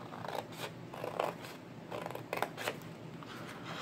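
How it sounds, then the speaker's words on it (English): Scissors cut paper along a score line for a mini album, a series of quiet rapid snips and crisp rustles, close but faint, with no talking. "And then we're going to cut up the score line"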